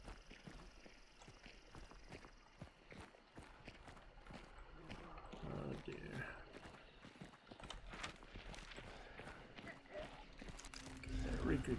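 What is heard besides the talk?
horse trotting, clip-clop of hooves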